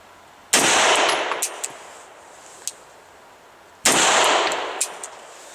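Two loud, sharp 9mm shots from a Beretta Elite II pistol at an outdoor range, spaced a few seconds apart, each followed by a ringing echo and fainter distant shots.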